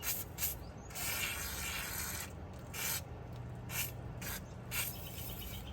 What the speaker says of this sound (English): I'm going to spray this for 10 minutes and let it saturate in